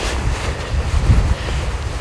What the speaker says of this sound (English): At least we got these boulders up here to break the wind a little bit.